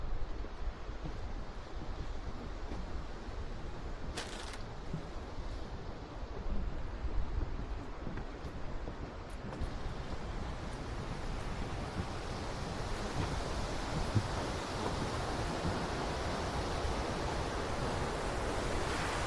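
Waterfall at the historic Independence Mine, a steady, loud rushing roar of falling water running unbroken throughout, with faint wind buffeting the microphone and no voices.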